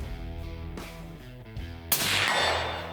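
A single rifle shot fired at a target 200 yards out through a Crimson Trace scope, a sharp loud crack that rolls into a long broadband echo over faint outdoor ambience.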